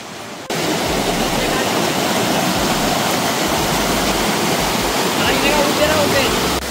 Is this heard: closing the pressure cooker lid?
no